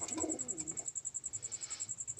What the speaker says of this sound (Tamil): இந்த புறா வந்து இந்த கூண்டில் அட இங்கே வந்து இந்த ரெண்டு கூண்டையும் பிடிச்சிக்குது